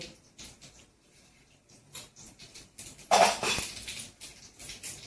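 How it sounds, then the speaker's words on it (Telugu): Tempering seeds (popu) go into a hot pan for a South Indian pappu thotakoora, starting as light scattered patter and clinks, then a sudden loud sizzling burst that crackles on. "ఇదిగోండి నేను ఇప్పుడు పోపు వేసుకుంటానండి"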